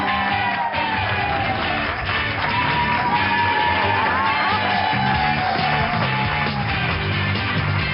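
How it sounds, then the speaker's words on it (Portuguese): Studio audience on a Portuguese afternoon TV health show cheering and whooping loudly as the doctors' panel is introduced, a dense, sustained roar with shouts and music underneath for the whole stretch. "Um forte aplauso, vêm aí os doutores do Boa Tarde."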